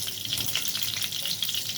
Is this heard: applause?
no